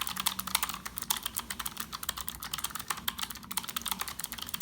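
Fast continuous typing on a Keychron K1 version 2 mechanical keyboard, close and crisp, a dense clatter of individual key clicks with no pauses.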